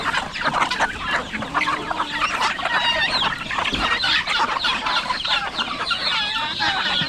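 Chickens clucking steadily on a Philippine backyard farm where the flock is fed corn bran and a little commercial feed, dense overlapping clucks and cackles filling the whole stretch, fairly close and loud with no talk.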